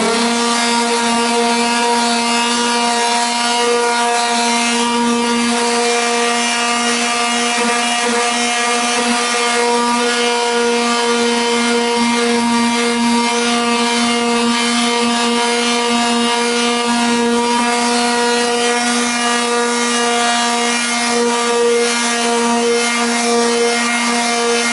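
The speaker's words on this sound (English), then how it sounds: "I have my dad's rigid sander, and I'm just going to sand some of this and see what it looks like" A Ridgid power sander runs continuously on pallet wood, a steady loud droning hum with a raspy abrasive rub that holds for about twenty-five seconds with no talking.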